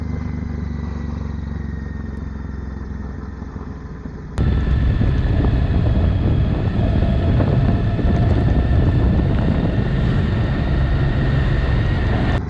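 Strong wind buffets an external microphone on a moving motorcycle, a steady loud roar that jumps sharply louder partway through and stays heavy to the end.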